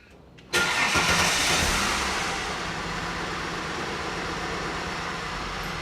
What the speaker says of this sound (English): run the engine for another 5 or 10 seconds or so, turn it off